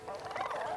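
A griffin in the Dragon Age video game gives a single brief, warbling squawk, close and fairly loud, with no talk over it.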